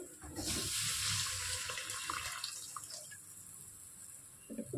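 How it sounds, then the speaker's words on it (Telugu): Tamarind juice is poured into a fish curry pan, making a continuous splashing pour that starts loud and gradually thins out, followed by faint trickles and light clinks. "ఇప్పుడు కొంచెం చింతపండు పులుసు వేసుకుందాం."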